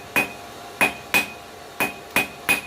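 A blacksmith hammers hot steel on an anvil while drawing a taper for a forged corkscrew: six loud, ringing metallic blows at an uneven rhythm, close by, with no talk.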